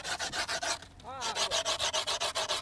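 Sandpaper is rubbed by hand over a skateboard deck in quick, even back-and-forth strokes, loud and close, with a brief pause and a scraping squeak partway through.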